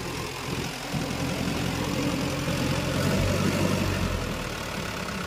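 A Toyota Dyna 130HT diesel truck engine with a low-power fault idles steadily and loudly, a continuous rumbling drone that holds even throughout with no talking.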